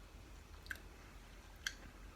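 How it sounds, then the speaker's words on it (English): Raw oats being chewed up close, a soft, steady mastication with two sharp crunchy clicks standing out over a faint background hum. "they're raw oats, so I've got to really chew these properly"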